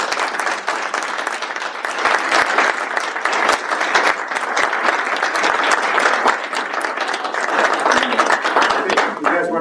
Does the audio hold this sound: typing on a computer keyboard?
no